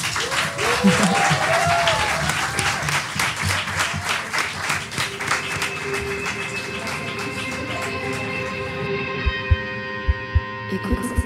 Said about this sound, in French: Je veux bien un peu d'applaudissements